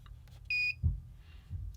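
Single short electronic beep from a Wishluck MH001 ultrasonic multifunction cleaner, a clean high tone lasting a fraction of a second, followed by a soft button click in a quiet room.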